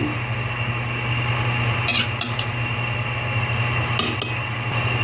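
A spoon scrapes and clinks against a cooking pot while tinola is stirred, with a few brief metallic knocks over a steady low hum of the stove.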